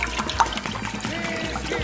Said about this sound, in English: Okay, so I'm gonna do all the milk